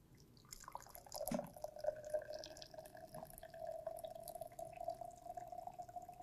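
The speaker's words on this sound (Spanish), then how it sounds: "Vertimos el agua caliente con mucho cuidado." Hot water is poured carefully into a plastic container, a faint trickling and dripping stream with a steady liquid tone that runs on for several seconds, quiet and close, with no talking.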